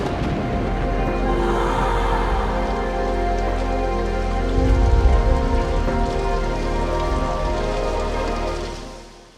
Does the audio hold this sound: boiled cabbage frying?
no